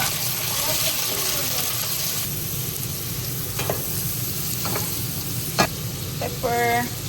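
Shrimp frying in hot oil for a Filipino sinigang na hipon, with steady broadband sizzling throughout and occasional stirring clatters and a brief scrape near the end.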